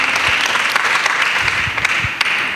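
Steady, loud applause from children and a church congregation, a dense wash of clapping with a few sharper individual claps standing out, continuing throughout.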